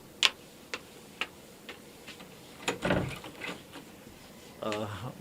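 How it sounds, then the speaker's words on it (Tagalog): Several sharp, evenly spaced knocks on a door in a Filipino radio drama, fairly close and crisp, followed by a voice speaking briefly. "Ay kumakatok. Sino kaya to?"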